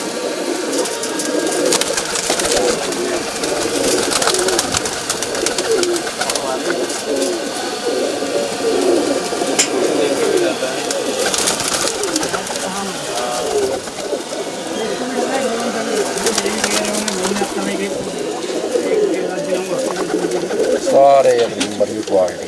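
Many pigeons cooing together in a dense, continuous chorus, with wingbeat flutters and a Hindi-speaking voice talking over them.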